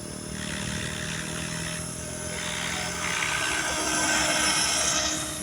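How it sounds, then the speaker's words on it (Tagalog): A Trex 500 RC helicopter fitted with an MD500 scale body flies at an outdoor field, its rotor and motor giving a steady, smooth whine and buzz that swells slightly louder partway through, with no voices. "Ganda, walang ka-vibration yung helicopter."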